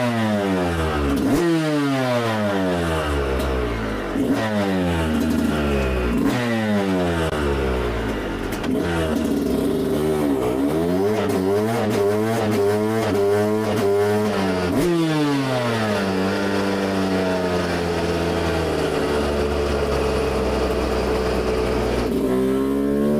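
A 2023 Yamaha YZ125 two-stroke dirt bike with an FMF exhaust and stock silencer revs hard and loud, repeatedly climbing to high pitch, dropping and climbing again without a break, with no talking.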